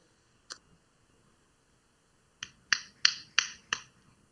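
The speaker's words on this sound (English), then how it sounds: "Do I hear anything as I just start snapping my fingers?" Finger snaps in a quiet room: one lone snap, a pause of about two seconds, then five quick, crisp snaps in a loose rhythm, close and clear with nothing else heard.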